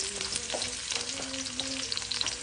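Onions sautéing in a frying pan for a homemade callos dish, a steady close sizzle and crackle with stirring scrapes running throughout, no talking.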